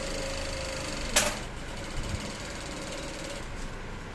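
A sewing machine runs steadily, stitching a trouser pocket lining, with a faint mechanical whir and a few brief clicks. It is heard up close with no talk.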